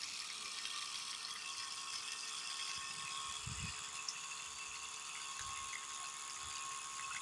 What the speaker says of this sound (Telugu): ట్వెల్వ్ వోల్ట్స్ నుంచి 18 వోల్ట్స్తో రన్ అవుతుంది 3D మెటల్ పంప్